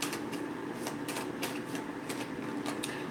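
Rapid, repeated papery riffling of tarot cards being shuffled, close and soft, with quick taps in an irregular rhythm and no talking.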